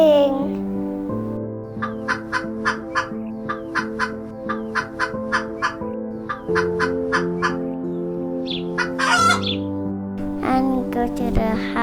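A chicken clucks in a preschool story of the ugly duckling, a series of short repeated clucks in a steady rhythm over a bright musical backing, ending in a louder flurry.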